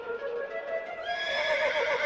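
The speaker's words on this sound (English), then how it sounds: "with his racehorse, Incitatus." Caligula's racehorse Incitatus whinnies in a long, shrill neigh that breaks upward partway through and trembles at the end, moderately close and without speech.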